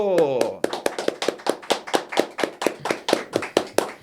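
A small studio production crew claps for podcast guest Rodrigo Menderico, a brisk run of about fifteen distinct, close, evenly spaced claps following a brief burst of speech.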